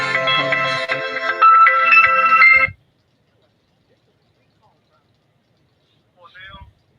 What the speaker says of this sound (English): Now I got a phone call, y'all